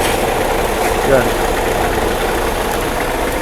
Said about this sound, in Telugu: బ్యాక్ ఇంజన్ అంటే వోల్వో అనమాట ఇది